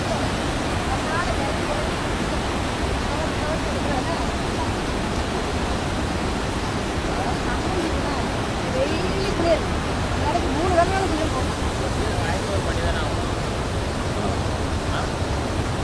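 Rushing water pours over the Valparai–Athirapally waterfalls in Kerala, a steady, dense roar that holds at one even level throughout without pause.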